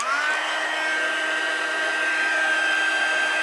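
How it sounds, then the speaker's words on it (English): Heat tool for melting embossing powder on a stamped Christmas card, blowing a steady, loud, close whirring rush with a high tonal whine throughout, no talk. "to melt it we're going to use the heat tool"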